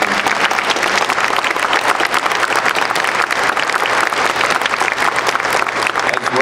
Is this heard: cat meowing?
no